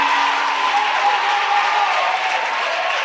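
Church congregation applauding to acclaim Jesus during a testimony and prayer service, a steady dense wash of clapping and crowd noise with a faint sustained tone beneath, continuous for a few seconds.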